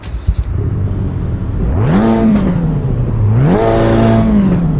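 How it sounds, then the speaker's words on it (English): A Hyundai i30N in Assetto Corsa Evo revs loud and close, the engine note climbing sharply twice in quick succession with a throaty, buzzing rasp and no talking. "Yes, this does sound like the i30N."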